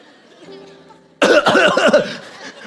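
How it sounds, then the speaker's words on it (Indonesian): A quiet stretch, then a sudden loud burst of harsh coughing, several rapid close coughs in a row. "Perlu obat batuk kelihatannya. Pelit denganmu. Sudah, masih batuk terus."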